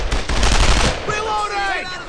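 Loud, dense machine-gun fire from a World War II squad shooter game, Brothers in Arms: Earned in Blood, rattles for about a second, then fades under a shouting voice and lingering battle noise.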